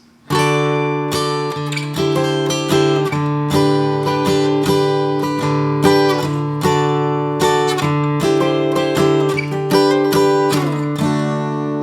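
A guitar plays the steady, rhythmic intro to a song, strummed chords repeating in a regular pattern, clear and close with no voices.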